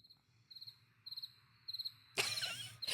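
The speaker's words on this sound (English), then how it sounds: "Exactly, crickets." Crickets chirp in quick pulsed trills, repeating in evenly spaced bursts, before a sudden loud burst of noise cuts in at the end.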